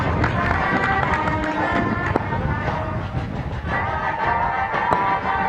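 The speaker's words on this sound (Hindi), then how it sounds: "सभी टुकड़ियां वापस इंस्पेक्शन लाइन पर पहुंच चुकी है और जारी है कदम ताल" Parade contingents marching in step at an Independence Day parade, a dense shuffle of many feet and crowd murmur outdoors, with a few sharp clicks over the steady rumble.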